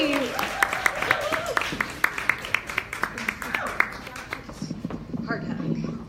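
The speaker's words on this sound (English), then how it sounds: "Big round of applause," An audience at a talk on awakening to love applauds with moderate clapping and audible individual claps while a voice speaks over it, then the applause thins out and talk continues.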